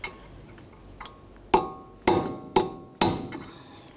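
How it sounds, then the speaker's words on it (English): A hammer strikes a punch four times at a steady pace, staking the edge of an axle nut on a Honda Accord, each blow a sharp close metallic ring after a few faint taps. "We have to use a hammer and punch and drive the very edge of the nut down into that slot"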